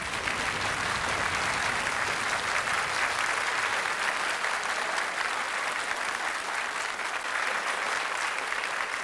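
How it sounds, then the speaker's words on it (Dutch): A studio audience at a Dutch NCRV television talent show applauds contestant Theo Keizer, with dense, even clapping that stays loud and continuous from start to finish. "Wat geeft u voor applaus voor Theo Keizer?"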